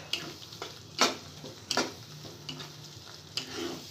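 Onion sizzles in hot oil in a pan for shahi chicken korma, a steady frying crackle with several sharp stirring scrapes and clinks spaced a few beats apart, close up, with no talking.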